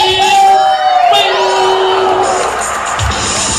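Audience at a dolphin show cheering and clapping in a steady crowd roar, with shrill whistles and whoops rising over it, then settling to a lower murmur.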